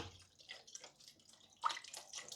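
Soup broth pours from a carton into a pot in a home kitchen, a faint, uneven trickle and splash that gets a little stronger toward the end.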